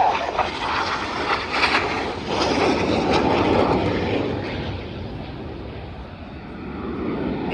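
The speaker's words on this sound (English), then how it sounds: "Each aircraft performs a barrel roll." Red Arrows jet aircraft roaring through a barrel roll at an air display, a loud, broad engine rumble that swells and slowly fades as the jets pass overhead.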